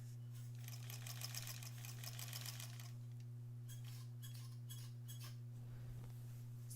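A sewing machine straight-line quilting a granny squares quilt, a quiet, fast, steady stitching rattle over a constant motor hum that stops and starts in short bursts.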